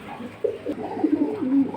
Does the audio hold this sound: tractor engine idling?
no